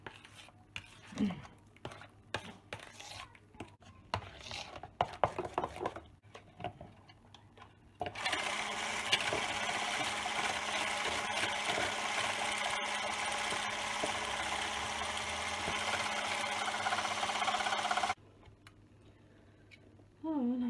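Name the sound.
mixing cheesecake batter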